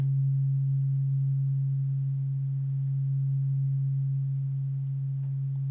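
Tuning forks sustain a clear, unwavering low hum, a single pure tone ringing on evenly from start to finish in quiet surroundings.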